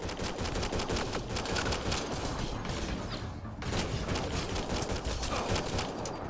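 Automatic weapons fire in the sci-fi game Mass Effect Andromeda: a sustained, rapid rattle of shots runs almost unbroken for several seconds, with one brief dip before the barrage resumes at full loudness.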